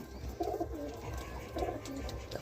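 Madras pigeon in a loft cooing in two soft, low bursts, one early and one later, over steady background noise.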